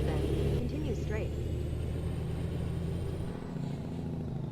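Cummins N14 diesel in a Peterbilt 389 truck, heard from inside the cab: a steady low engine drone with a faint rising whine, continuous and fairly loud throughout, with a voice talking over it.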